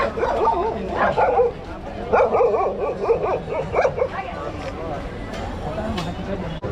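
On a Delhi street a large dog barks, yips and whimpers in short bursts, fairly close, with people's voices mixed in and street noise behind.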